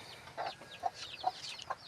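A large rooster of the bornok breed, kept caged on a farm and not used for fighting, gives four short, spaced clucks at close range. No one talks over them.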